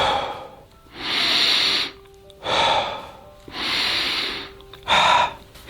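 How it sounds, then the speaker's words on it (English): Deep breaths taken slowly, four long airy inhale and exhale cycles close to the listener, loud and steady with short pauses between them and no talking. "take a few deep breaths."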